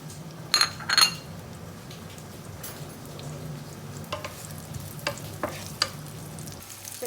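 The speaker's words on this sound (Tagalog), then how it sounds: "At igigisa natin yung ating lasuna." Sliced onions frying in a little oil in a hot pan give a low, steady sizzle, with a few sharp scrapes and clinks of a utensil near the start and more scattered stirring knocks later.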